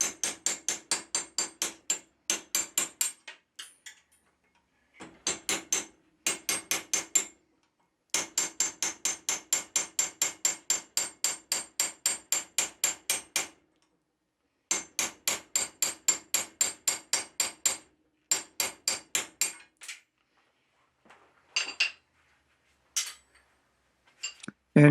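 Hammer blows strike a cold chisel shearing off metal waste in a blacksmith's shop, falling as loud, close, evenly spaced metallic strikes in long runs with brief pauses between them.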